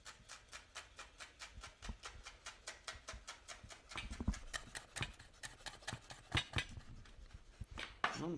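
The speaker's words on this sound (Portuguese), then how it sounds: "Vou picar uma salsinha bem grosseirinha assim mesmo, só para dar uma cor" Parsley chopped coarsely with a knife on a board: a steady run of sharp, rhythmic taps at roughly even pace, close and clear, growing slightly heavier and more uneven toward the end.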